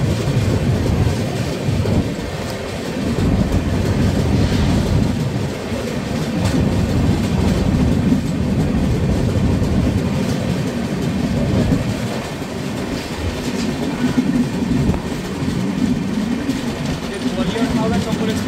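The Gwalior–Howrah Chambal Express rolls along the tracks, heard from inside a third AC coach as a loud, continuous low rumble with rhythmic wheel clatter, with voices faintly under the din.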